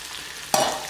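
Chili oil with Sichuan pepper bubbles in a pan, a close, steady sizzling hiss that jumps louder halfway through the moment.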